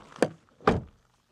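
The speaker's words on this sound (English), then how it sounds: "Then the door closing sound." A Nissan Ariya Nismo car door shuts with two short, solid thunks a half-second apart, the second heavier and fuller, then quiet.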